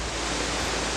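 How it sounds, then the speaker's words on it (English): Hidden waterfall near Gauhati heard as a loud, dense, unbroken roar of falling water filling the entire short moment, with no voices over it. "It's the sound of a waterfall."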